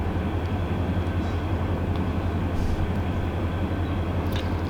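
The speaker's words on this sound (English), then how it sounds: "Train just spawned itself on the Yuma sub there east of West Colton Yard." A game train rolls along the Yuma sub east of West Colton Yard, a continuous low rumbling drone with steady loudness throughout and no distinct events.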